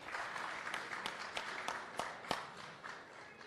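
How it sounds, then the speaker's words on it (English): A small audience at a boxing press conference applauds briefly, with scattered sharp claps forming a faint patter that fades after a few seconds. "Round of applause for JoJo"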